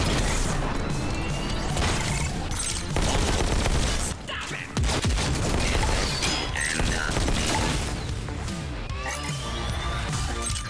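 Shotgun gunfire in the VR video game Robo Recall, a rapid barrage of loud shots and crashing impacts that continues almost without a break, with a short lull partway through.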